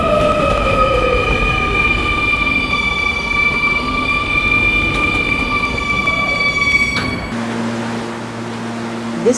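An R220 subway train rides along steadily with a loud continuous rumble and whining tones, then slows near the end with a quieter, steadier hum as it nears a station.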